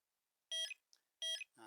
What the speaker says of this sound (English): the sound unit is now beeping